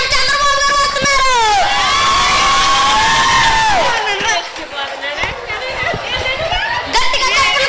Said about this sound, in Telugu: అందరూ కూడా గట్టిగా చప్పట్లు కొట్టి ఆహ్వానించండి